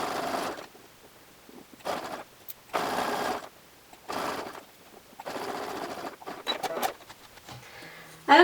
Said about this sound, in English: you're going to zigzag stitch right on top of this elastic